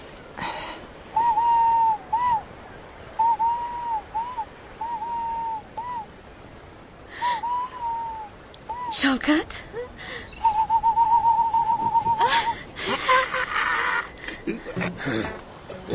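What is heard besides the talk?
bird calls, owl-like hooting and whistling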